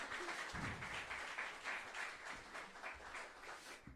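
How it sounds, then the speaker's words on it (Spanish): Applause from a church congregation during a service, a fairly quiet but steady patter of many hands clapping that carries on for several seconds with a slightly uneven rhythm. "Un aplauso para el Rey de Reyes y Señor de Señores."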